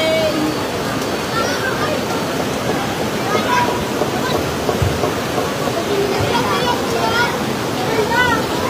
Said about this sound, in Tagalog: Nagkakasag na ang baha.